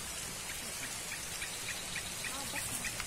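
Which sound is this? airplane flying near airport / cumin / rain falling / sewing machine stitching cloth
rain falling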